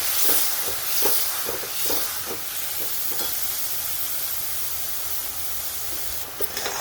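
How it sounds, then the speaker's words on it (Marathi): Tomato paste sautéed with fried onion in a pan for dhaba-style masala bhindi, a broad hissing sizzle with a few soft scraping strokes early on, close and even, with no voice. "आपण आता टोमॅटोची पेस्ट टाकून घेऊ टोमॅटोच्या पेस्टला पण आपण परतून घेणार आहे"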